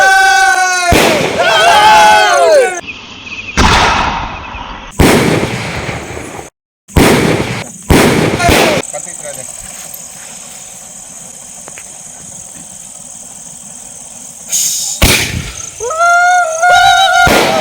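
Sivakasi Diwali firecrackers go off outdoors as a rocket launches: sharp loud bursts and pops with whistling streaks, a long fizzing lull, then more crackling bangs, with a crowd murmuring around.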